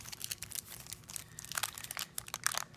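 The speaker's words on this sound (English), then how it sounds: "We're going to unwrap it here." Parchment paper crinkles and crackles as cannabis shatter is unwrapped, a close, quiet run of irregular rustling and crunching with no voices.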